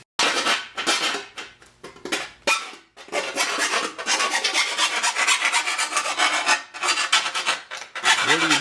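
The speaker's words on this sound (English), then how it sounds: "Filing the burrs off." Hand filing burrs off a metal part from a 1955 Chevy truck: steady rasping strokes in a quick back-and-forth rhythm, close and loud, with a few brief pauses and no talking.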